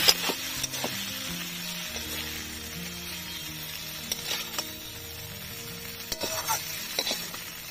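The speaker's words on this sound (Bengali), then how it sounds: "সব মরলা মাছ ভাজা হয়ে গেছে, তুলে নেব।" Small mourola fish frying in oil, a soft continuous sizzle with a few sharp clinks and stirring taps, close but fairly quiet, with no talking.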